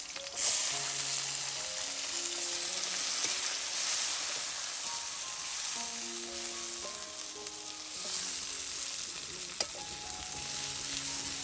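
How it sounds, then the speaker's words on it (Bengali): Bhetki fish frying in a pan in a home kitchen, a steady close oily sizzle with faint scattered clinks and scraping of utensils, no voices. "এই যে অনেকটা মাছ ভাজা হয়ে গেছে"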